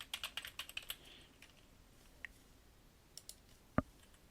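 Key presses on a computer keyboard while SFTP login details are entered into a connection form: a quick burst of close, crisp clicks in the first second, then a few scattered taps and one sharper, heavier keystroke near the end, with no talking.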